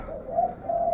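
Jalak starling calling, a short, clear tonal note that wavers, breaks off and resumes within a second, close and moderately loud.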